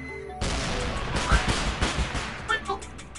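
Gunfire bursts from a VR shooter video game, a string of sharp cracks and blasts in quick succession close by, with a voice talking between the shots.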